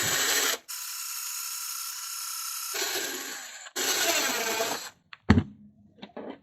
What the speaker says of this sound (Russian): Затем нужно взять бутылку и насквозь просверлить отверстие в крышке